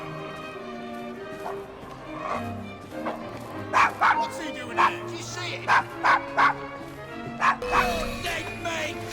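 Desmond the dog in Assassin's Creed Syndicate gives a series of short, sharp barks in bursts, mid-distance, over game ambience and lines of character dialogue.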